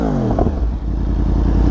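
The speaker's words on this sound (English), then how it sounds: "It's very like quiet idling, and it's loud when you're higher in the RPM." A Yamaha R1M sport motorcycle engine runs steadily at a low, throbbing idle, with a brief rising whine near the start, loud and close.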